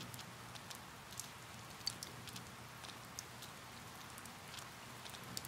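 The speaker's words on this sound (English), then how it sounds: "Too bad it's raining." Rain falls steadily in Persona 4 Golden, a soft, constant hiss with light scattered droplet ticks, quiet and even throughout, with no voices.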